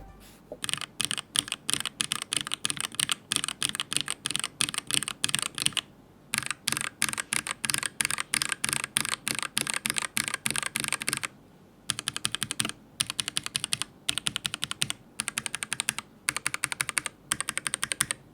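Rapid, continuous typing on a Noir N1 v2 mechanical keyboard on a deskmat, crisp close-up clacks in bursts with a couple of brief pauses, no voices.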